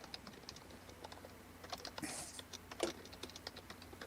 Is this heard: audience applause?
no